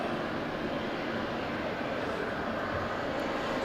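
A Boeing 737 at Southend Airport gives off a steady, distant jet engine roar that holds at an even level throughout, with no talking.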